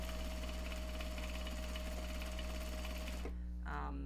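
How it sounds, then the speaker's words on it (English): A sewing machine stitches Japanese fabric bags with a loud, close, steady whirring buzz that stops near the end, with a voice talking over the machine. "we have actually moved on from the prep for the bags to sewing the bags"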